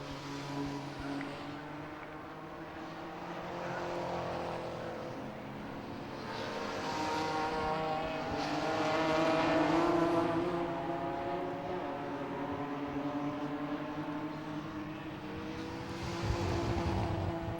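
BMW race cars in the Kumho BMW Championship at Brands Hatch, engines droning in layered waves that rise and fall as cars pass and shift gears, loudest near the middle, no voices over them.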